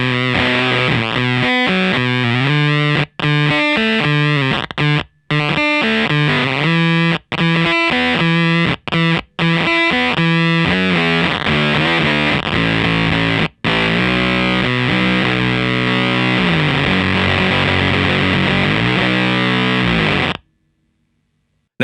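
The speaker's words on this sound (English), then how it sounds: "you get a pretty cool Velcro-y fuzz tone" Electric guitar played through a Musikding Die Factory fuzz pedal set with high compression and a gate, giving a loud, sputtering, velcro-like fuzz tone. Chords are cut sharply by the gate, with brief silences between phrases before ringing out to stop.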